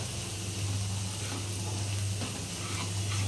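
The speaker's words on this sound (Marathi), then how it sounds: "हे मसाले सगळे तेलामध्ये व्यवस्थित परतून घ्यायचे आहेत" Spices with onion-garlic masala and Kashmiri chili powder sauté in hot oil for Puneri misal, a steady close sizzle and hiss over a low, constant hum.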